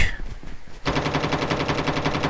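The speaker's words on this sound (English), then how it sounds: "So we hear gunshots here." Rapid automatic gunfire in a Call of Duty Mobile tournament match breaks in after a quieter moment and rattles on as a dense, loud, steady burst of shots to the end.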